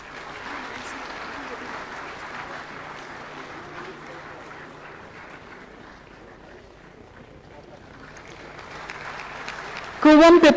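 An audience claps at the National Energy Conservation Award 2022 ceremony as a school prize winner is called up; a steady round of applause thins out midway, swells again, then a sudden loud, sharp burst cuts in at the end.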